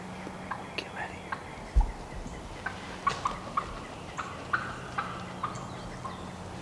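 A wild turkey gobbler that has gathered his hens gobbles at close range in a quiet spring woods, with soft clucks and several brief bursts scattered across the stretch, and faint whispering underneath.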